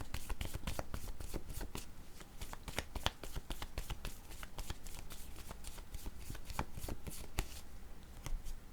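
A deck of picture cards is shuffled up close, a rapid train of crisp riffling flicks repeating steadily for several seconds at low volume.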